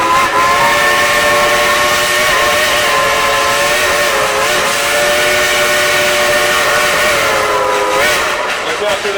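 Dollywood Express steam engine whistle at the Dollywood theme park, a loud sustained multi-tone blast held for most of the stretch, dipping briefly in pitch, then fading near the end.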